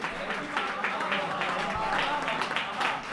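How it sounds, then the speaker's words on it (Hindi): An audience applauds a speaker at a poetry event in a hall, a steady, moderately distant wash of clapping that fills the whole moment without pause. "एक बार इनके लिए तालियां बजाइए।"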